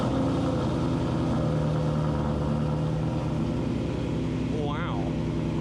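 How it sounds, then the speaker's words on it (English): A boosted 2018 Ford Mustang S550 idles steadily after a cold start, its deep engine rumble continuous and close, with a brief voice rising over it near the end. "So we'll get a quick little cold start of his boosted S550"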